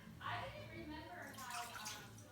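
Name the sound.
water being poured into a mixing bowl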